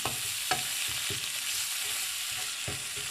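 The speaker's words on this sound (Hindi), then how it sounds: "अब इसमें थोड़ा सा मैं डालूँगी धनिया और इसको कुक कर लूँगी।" Coriander cooking in butter in a pan for a chicken tawa burger, a steady broadband sizzle with several soft spoon-scrape stirring thuds at irregular intervals, close up and without speech.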